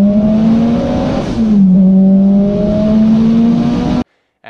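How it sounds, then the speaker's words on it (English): A twin-engine Toyota Starlet at a roll racing event in Darwin: loud, close engine roar climbing in pitch under hard acceleration, a brief dip as it shifts, then rising again before cutting off suddenly. "Nick and I took the twin engine Starlet out to the roll racing that we had up in Darwin."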